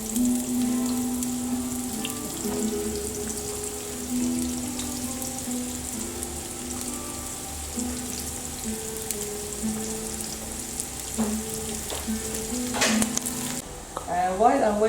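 Onion frying in a pan gives a steady low sizzle under a persistent hum, with occasional clinks and a brief running-water burst near the end.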